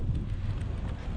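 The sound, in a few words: strong wind blowing on a GoPro while cycling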